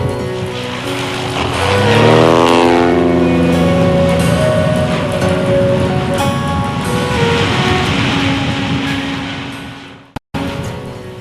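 A banner-towing propeller plane drones loudly overhead, its engine pitch sweeping down as it passes close, then holding a steady rough roar before cutting off abruptly.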